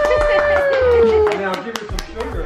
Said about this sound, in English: what we're all clapping about